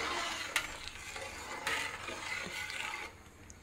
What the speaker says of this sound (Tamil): இதை கரண்டியால் நல்லா கிளறி விட்டுடுவோம்